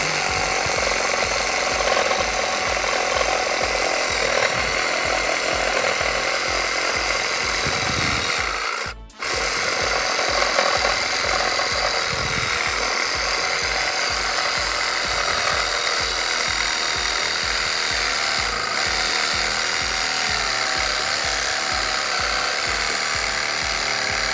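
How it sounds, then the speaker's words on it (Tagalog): A chainsaw runs continuously with a harsh, buzzing, rattling roar, close and loud, briefly cutting out once before resuming. "ngayon, itry natin ang magandang chainsaw"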